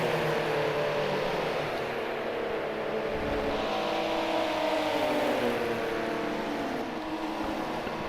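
Race car engines in a Monza Oval racing video game, a continuous loud droning roar with shifting pitch as cars lap close together, no pauses.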